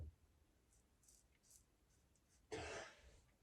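A single short cough comes from someone shaving with a razor at Lochranza on Arran. It is fairly quiet and close, preceded by faint small clicks and near-silence.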